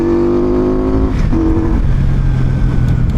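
A Benda Napoleon Bob 500 motorcycle, a bulky 500cc cruiser, revs loudly and close up, climbing to about 5,000 RPM with a deep, throbbing exhaust that dips briefly before holding a steady growl.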